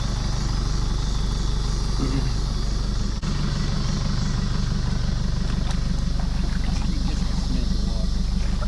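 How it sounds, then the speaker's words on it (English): An old Chevy Colorado truck pulls a houseboat at the water's edge, its engine a steady low rumbling drone throughout, with a brief knock near the middle and voices faintly present. "the old Chevy Colorado pulling it back and forth"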